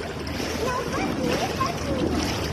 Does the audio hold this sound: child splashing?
yes